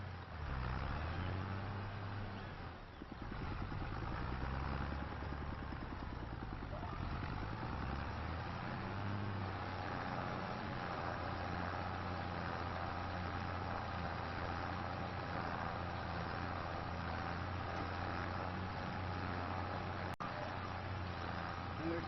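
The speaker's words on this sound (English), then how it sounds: "getting the new tractor out on the trailer to cart the seeds to the field." A new tractor engine in Farming Simulator 25 runs steadily with a low droning hum, its tone shifting early on and then holding a constant note, with a faint click near the end.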